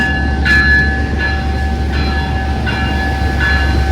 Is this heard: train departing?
yes